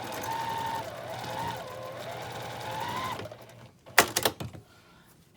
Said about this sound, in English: we're just going to go across that corner with a 1/4 inch seam